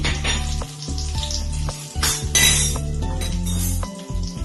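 Crushed garlic and dried red chillies broken in half hit about two spoons of hot oil for a masala pori snack, sizzling loudly and steadily throughout with a few light metal clinks of a spoon against the pan.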